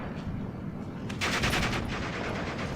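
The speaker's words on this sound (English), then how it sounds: "my troops are offering heavy resistance with 2 MG42s" MG42 machine guns firing in the Steel Division 2 war game, loud sustained bursts of rapid automatic fire with a dense crackling rattle that swells midway and continues to the end.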